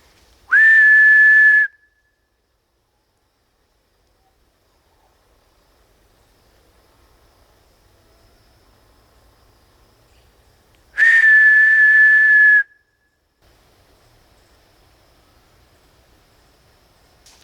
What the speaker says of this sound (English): You know when someone can't whistle and you get more air than whistle?